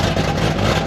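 A car engine idles through a homemade equal-length exhaust with leaks and two spare mufflers, making a brief, steady, low rumble.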